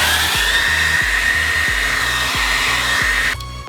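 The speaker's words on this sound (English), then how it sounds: "with a blow dryer." Blow dryer heating spoiler riser bolts on a Subaru BRZ, a loud steady whine and whoosh running close by, cutting off abruptly near the end.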